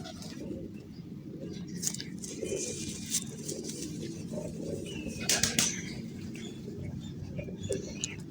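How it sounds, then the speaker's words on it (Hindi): Low, murmuring coos from pigeons kept by a fancier, including a round-feathered bird, roll on steadily close by, with a few sharper chirps and wing flutters breaking through. "गोल पर का कबूतर है"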